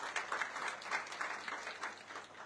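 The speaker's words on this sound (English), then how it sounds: "Let's give them a round of applause." Audience applause at a national youth awards ceremony in Dominica, a steady patter of many hands clapping at moderate volume, with faint voices mixed in.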